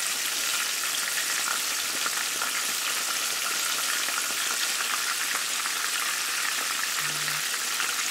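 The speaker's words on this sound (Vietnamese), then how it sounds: "Mình cho cà vào chiên ở mức lửa vừa." Rolled eggplant frying in hot oil in a pan over medium heat, giving a steady, dense crackling sizzle that continues evenly throughout with no talking.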